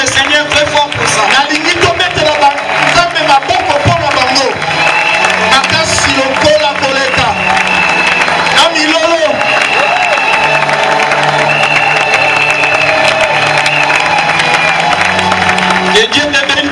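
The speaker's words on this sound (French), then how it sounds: "Je voudrais que nous puissions applaudir le Seigneur très fort pour ça." A church congregation at an anniversary service applauds loudly, with sustained clapping and crowd cheering over a loud voice that continues through the noise.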